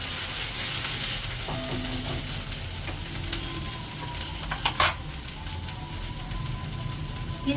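Spices frying and being stirred in a pan over a low gas flame while cooking chicken biryani, a steady close sizzle with scattered scraping and clinking of the spoon.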